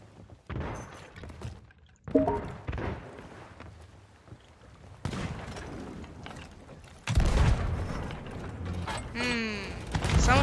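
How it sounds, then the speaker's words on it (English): Cannons firing aboard a ship in the video game Sea of Thieves, heavy booms and thuds with creaking mechanisms amid chaotic game noise, loud bursts around two, five and seven seconds, with voices talking over it. "These cannons."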